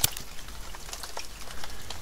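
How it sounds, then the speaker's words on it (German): Steady rain falls in the survival video game The Forest, a soft, continuous patter of drops with scattered brighter ticks, fairly quiet and heard alone. "dadurch, dass es natürlich die ganze Zeit regnet"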